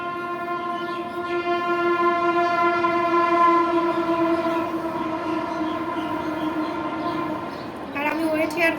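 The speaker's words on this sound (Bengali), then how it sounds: "ট্রেন যাচ্ছে, ট্রেন" A train passing close by sounds a long, loud horn blast that holds steady for several seconds and then fades, followed by a short second honk, with rumbling wheel noise underneath.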